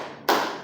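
A group claps together once in an introduction clap during a group guidance session, a single sharp burst that rings out and fades after a quiet moment.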